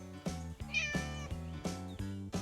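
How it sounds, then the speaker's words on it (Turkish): A cartoon cat gives a short, high meow over a rhythmic, repeating musical background, heard alone without speech. "annesi mi bilmiyoruz ama bu kediyi bulabildik"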